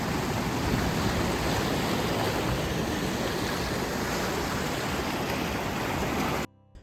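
Pure mountain stream water rushing down toward the valley near Milford Sound, New Zealand, a steady, dense, close roar of flowing water with no pauses, cutting off abruptly at the very end.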